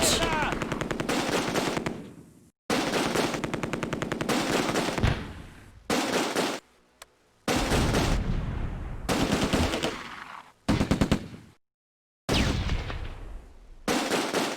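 A .30 cal machine gun firing in the WWII strategy game Close Combat: A Bridge Too Far, loud rapid bursts in several long strings broken by abrupt silences, with no voices over them.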